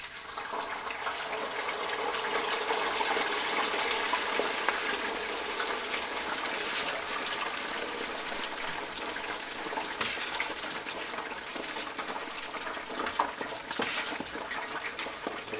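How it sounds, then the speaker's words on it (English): Pork nuggets lowered slowly into hot grease for deep frying give a steady, dense frying hiss and bubbling roar that holds for the whole stretch, with small crackles popping through near the end and no talking. "so we're gonna lower these down in the grease real slow"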